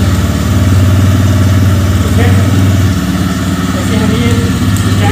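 A TVS Raider 125cc motorcycle engine idles with a steady, loud low rumble throughout while someone talks over it.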